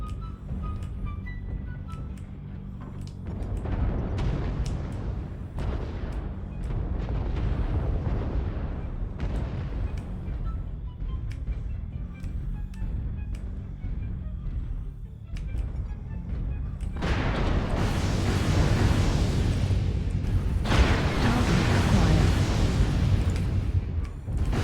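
Artillery strike explosions in MechWarrior Online on a jungle map: repeated deep booms and rumbling blasts, louder and heavier toward the end, with a continuous low roar beneath them.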